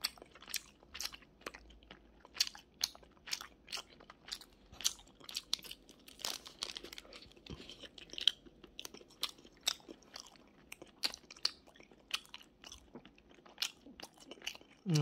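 Glutinous rice sweet potato bread being bitten and chewed close up, a steady run of soft crunchy, sticky chewing sounds at a quiet level with no talking.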